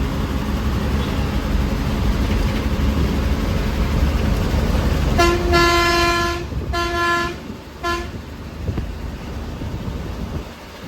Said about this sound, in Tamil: இந்த வீடியோவை ஹெட்செட் போட்டு கேட்காதீங்க, காது செவிடாகி போயிடும். ஏன்னா அந்த அளவுக்கு ஹாரன் தான்